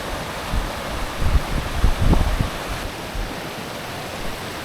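A strong mountain creek near Mount Hood on the Timberline Trail rushes steadily, a broad, even roar that stays loud and continuous, with a few low thumps underneath.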